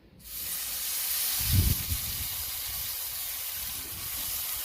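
Shrimp dropped into a hot cast iron skillet on a Weber grill, bursting into a loud, sustained hissing sizzle that holds steady close by after a brief thud of placement.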